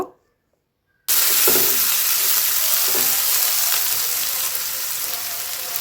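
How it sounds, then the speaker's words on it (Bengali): Garlic and onion paste hitting hot oil and frying with a ladle, a sudden loud burst of sizzling after a second of silence, then a dense steady hiss with faint stirring scrapes, close up. "রসুন বাটা দিয়ে দিচ্ছি দুই টেবিল চামচ পেঁয়াজ বাটা দিয়ে দিচ্ছি এখানে এক কাপ পরিমাণ আবারও একটা হাতা দিয়ে হালকা নেড়ে সেড়ে বেজে নেব"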